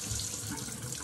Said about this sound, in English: we're gonna run the water a little bit so it gets warm